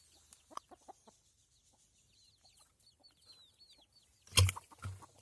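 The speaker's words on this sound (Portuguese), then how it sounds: "uns pintinhos que a gente tem bem aqui" Free-range chicks and hens in a farm paddock, with thin, high chirping peeps scattered through quiet moments and a few soft clucks. A louder burst of close clucking comes near the end.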